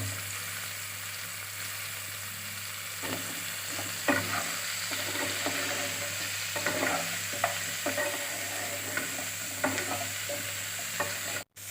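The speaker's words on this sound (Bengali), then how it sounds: "এবার আমি দিয়ে দেব আলু আর গাজর, যেটা আমি আগে ছোট ছোট টুকরো করে কেটে রেখেছি" Small pieces of potato and carrot stirred and frying in a pan for chicken stew: a steady close sizzle broken by repeated spatula scrapes and stirring knocks, with no talking, ending abruptly.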